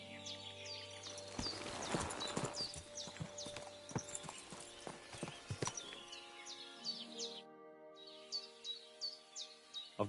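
Horse hooves clip-clop at a steady walking pace in Kingdom Come: Deliverance 2, close and distinct, with birds chirping in the background and a short muffled gap partway through.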